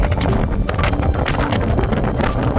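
Strong wind gusts at Sulby Lake batter the microphone in a loud, continuous roar that buffets and surges without pause, with no voices over it.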